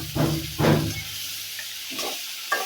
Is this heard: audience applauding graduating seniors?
no